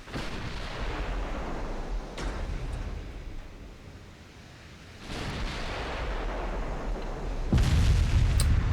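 Panda gun fire in the Day of Infamy war game, heavy booming shots with rumbling tails, a few separate bursts spaced several seconds apart, the last one loudest.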